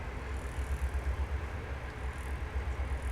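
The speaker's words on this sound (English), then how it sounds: "Another train coming through town" Steady low rumble of a train passing through town beside a Sparta baseball game, a continuous moderately quiet rolling drone with slight pulsing and no talk.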